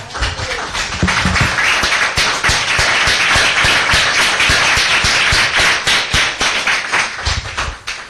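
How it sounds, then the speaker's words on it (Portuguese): A church congregation applauds, a dense run of sharp claps spread evenly across several seconds, loud and close, with no voices over it. "Gostaria de dar uma salva de palmas para essa palavra."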